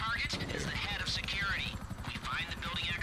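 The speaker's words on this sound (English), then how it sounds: "It's my helicopter." Helicopter in a GTA doomsday heist mission, a continuous loud rotor drone filling the scene while people talk over it.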